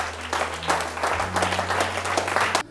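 A church congregation applauding in praise of the Lord, with a burst of steady, dense clapping that carries nearly three seconds before stopping abruptly, over a low hum.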